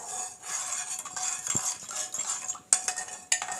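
A spoon stirs sugar into a coconut pudding mixture with cornflour in a pan, giving soft scraping swirls punctuated by a few sharp metallic clinks against the side.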